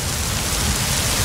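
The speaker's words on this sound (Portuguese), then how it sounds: "olha a força que essa chuva tá" Heavy rain pours down during a flash-flood storm in Vila Prudente, a dense, steady roar of downpour filling the whole moment without letup and with no voices.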